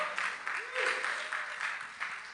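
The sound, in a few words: church congregation applause for the actors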